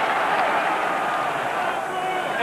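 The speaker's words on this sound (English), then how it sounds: "The Twickenham crowd try and lift England." The Twickenham crowd at a 2001 England versus Italy rugby union match makes a steady, dense roar that holds at an even level throughout.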